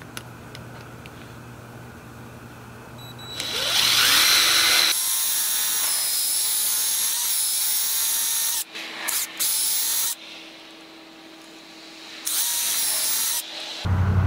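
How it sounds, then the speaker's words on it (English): A power drill drilling through a tire whines at high speed in several loud bursts, stopping and restarting, with faint clicks and ticking in the quieter gaps. "So we'll just start the drill process."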